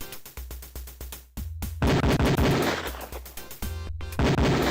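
Beretta pistol fire on a police shooting range in Police Quest 4, a rapid series of loud, sharp game gunshots with brief silent gaps, no talk.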